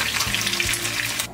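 Mackerel frying in hot oil, a steady close sizzle and crackle that runs throughout, with no voices.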